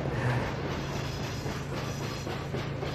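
Trains running in the railway simulation game Chris Sawyer's Locomotion, a continuous rumbling roll with soft rhythmic clickety-clack from the rails, steady and moderately loud.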